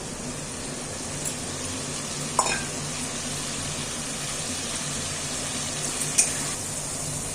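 Masala with ground peanuts and mace fries in a pan, a constant hissing sizzle with a couple of faint utensil taps, steady and fairly loud with no voices.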